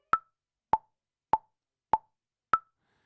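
A metronome set to 100 beats per minute ticks five times, sharp, evenly spaced, quiet clicks with silence between them and no voice.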